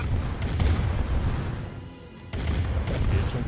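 A Command & Conquer tank battle sounds off with booming explosions and gunfire, dense rumbling blasts that dip briefly in the middle before resuming at full intensity.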